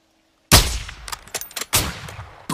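Sniper gunshots in Call of Duty Modern Warfare 2, a sharp loud crack out of silence followed by a few quicker reports and echoing tails within a couple of seconds.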